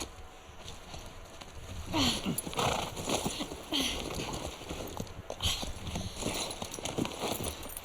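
Horse hooves in the video game The Last of Us Part II, rhythmic clip-clop steps on a snowy trail, moderately faint over a steady ambient game hum.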